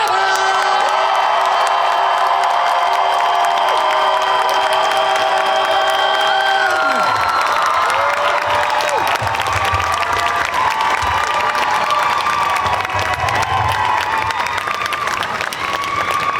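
A large crowd at a Scream 7 Q&A panel at Scaradise cheers, whoops and applauds loudly and continuously, with sustained shrill screams at first before settling into steady clapping and shouting.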